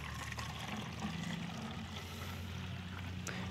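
Water poured steadily into a pot of bougainvillea mixed with a little fungicide and rooting powder, a continuous close splashing and trickling rush with no talk.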